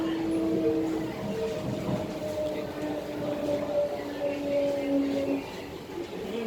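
An SMRT C151A metro train idles at a station platform in Singapore during a system test, its traction motor giving a steady tonal hum with a few sustained whine notes over low rumble.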